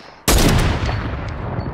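Gunfire in the Fortnite video game during a sniper shootout: one sudden loud shot breaks a quiet moment, then a dense, sustained roar of firing and echo continues close by, with no talking.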